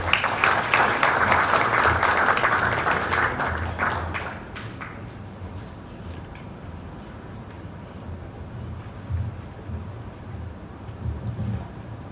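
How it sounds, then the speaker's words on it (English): An audience applauds at a nuclear energy summit in Nairobi, a dense burst of clapping for about four seconds that fades to a few scattered claps over a quiet room. "Round of applause."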